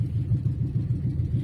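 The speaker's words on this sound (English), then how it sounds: "You can hear the pump." An electric fuel pump runs on a hot rod whose gasoline tank is nearly empty, giving a steady, close, low humming drone with a faint rhythmic pulsing and no talk.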